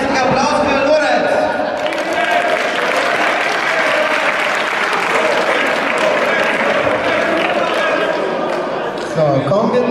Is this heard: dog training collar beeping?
no